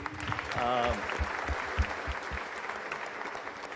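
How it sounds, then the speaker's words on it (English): An audience bursts into applause after a call to clap for the tennis player Mahesh Bhupathi. The clapping is brisk and fairly close, with a few louder claps standing out, and a voice can be heard over it at the start. "I think we should all clap for Mahesh Bhupati"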